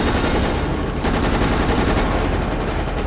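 Loud, dense video-game gunfire from Resident Evil: Operation Raccoon City, rapid overlapping shots forming a continuous barrage for about three seconds.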